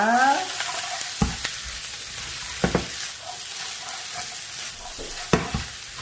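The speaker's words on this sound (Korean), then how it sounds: "양파를 볶으실 때는 너무 오래 볶아도 안 되지만 한 4, 5분 정도 충분히 볶아 주셔야" About 1.4 kg of coarsely chopped onions stir-fry in a pan for black-bean sauce noodles, giving a continuous close sizzle broken by a few scraping stirs of the spatula, without voices.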